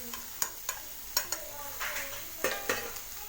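Spoon stirring half-cooked bitter gourd into frying masala in a pan, with irregular sharp scrapes and clicks over a faint sizzle, close and fairly quiet.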